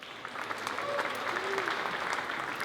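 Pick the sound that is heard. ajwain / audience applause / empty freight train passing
audience applause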